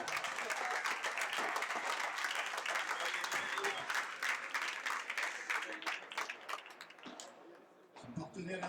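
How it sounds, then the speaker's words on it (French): Thunderous crowd applause and clapping fill a padel tournament venue, a dense sustained roar of hands that continues steadily before thinning out near the end, with a voice speaking over it. "Un tonnerre d'applaudissements pour Pierre Vincent."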